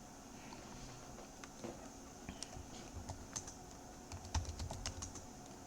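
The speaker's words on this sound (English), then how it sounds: "Oh, I just typed in my real password." Someone types a password on a computer keyboard. Irregular bursts of light keystrokes come close but faint, with a few louder taps toward the end.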